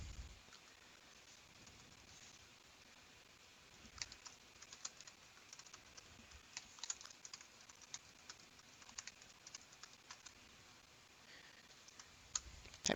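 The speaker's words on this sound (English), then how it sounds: "typing is hard." Quiet typing on a computer keyboard, with scattered key clicks coming in irregular runs over faint steady room hiss, close by.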